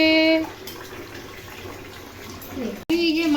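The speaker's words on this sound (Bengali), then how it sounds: "মাসি এখন বাসন ধুচ্ছে" Dishes being washed by hand under a running tap, a steady moderate gush of water with a loud burst at the start and again near the end, and a voice speaking over it.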